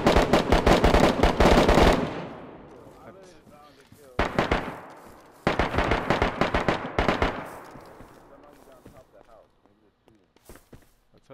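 Rapid bursts of automatic gunfire in the DayZ video game crackle loud and close, with several separate volleys and single shots spaced apart, while players talk over the shooting.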